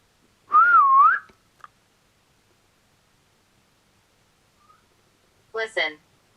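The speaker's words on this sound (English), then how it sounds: "I whistled and it sounded like something whistled back." A person whistles one wavering, warbling note, then after a long quiet pause a short breathy sound answers faintly, in an otherwise silent room.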